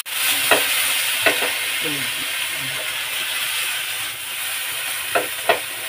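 Corned beef and potatoes sizzle in a frying pan with a steady, close hiss. A utensil scrapes and stirs through the pan now and then, while a voice talks faintly in the background.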